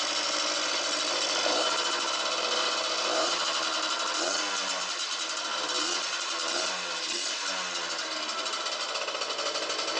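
Suzuki RMX 50 dirt bike engine, a small two-stroke, running with a steady, buzzy rattling drone at constant level throughout after being kick-started.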